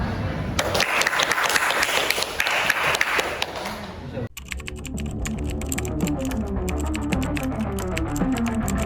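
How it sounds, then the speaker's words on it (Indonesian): A stage audience claps for participants in a staged kingdom-themed performance, with dense applause filling the first half and then sparser, crisp clapping over faint music. "Mari kita beri tepuk tangan sekali lagi untuk peserta yang telah menunjukkan keberanian dan keterampilan mereka."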